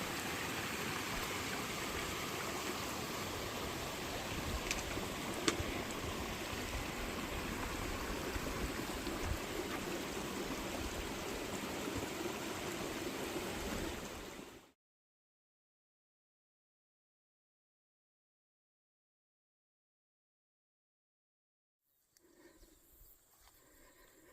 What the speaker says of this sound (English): made it to the stream